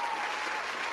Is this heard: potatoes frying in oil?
no